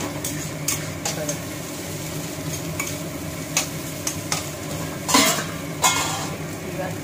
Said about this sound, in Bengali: দেখো মাঝখানে ডিমটা দিব, পুরো ভেজে দিলাম।